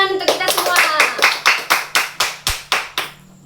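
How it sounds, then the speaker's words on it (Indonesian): A class claps in unison after a children's song, about a dozen sharp, evenly spaced claps that ring out loud and close, then stop abruptly. "Tepuk tangan untuk kita semua."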